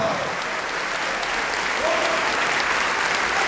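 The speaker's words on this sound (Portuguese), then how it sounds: "comece a aplaudir a Jesus" A church congregation applauding during a sermon, a dense, continuous roar of many clapping hands mixed with crowd noise, sustained and loud throughout with faint voices underneath.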